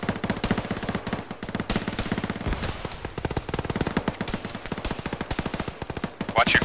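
Automatic gunfire in the ARMA 3 video game: rapid, loud, sustained bursts of machine-gun fire that rattle on continuously, with faint voices talking underneath.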